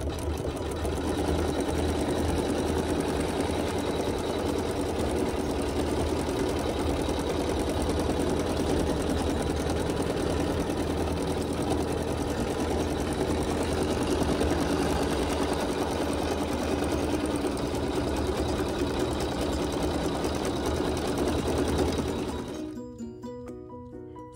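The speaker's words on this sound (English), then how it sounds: "you're going to sew that satin stitch" An embroidery sewing machine stitches a satin stitch in a fast, continuous, even whir, close and steady, and stops near the end.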